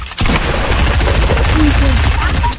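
Gunfire in the military shooter Squad, a dense, continuous rattle of shots and booms filling the whole stretch, loud and close with a voice faintly mixed in.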